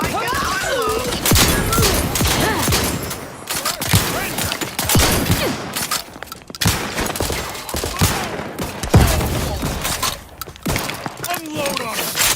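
Rapid bursts of gunfire in The Outer Worlds 2, loud and close, firing in repeated volleys with brief gaps, while voices shout over the shooting.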